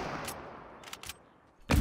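Hunting rifle fire in Fortnite: a few sharp shots crack out, two close together in the middle and a louder, nearer blast at the end, each trailing off into a fading echo.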